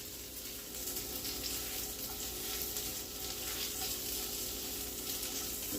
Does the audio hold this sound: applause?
no